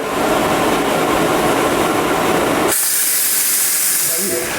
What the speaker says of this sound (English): I'm going to release the steam before we can safely open the lid.